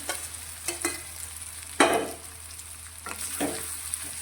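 Boiled potatoes stirred into spiced masala for a dry farari potato dish, with a few scraping stirs and short bursts of sizzling from the pan over a soft, steady frying hiss.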